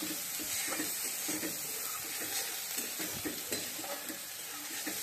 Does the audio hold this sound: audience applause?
no